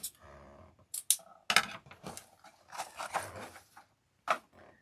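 Several sharp metallic snips and crisp cuts, scissors working through material in irregular bursts with soft rustling between them.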